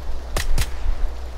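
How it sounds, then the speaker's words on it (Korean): Two quick gunshots in the game PUBG, sharp cracks a fraction of a second apart, moderately loud over a low background hum. "총소리!"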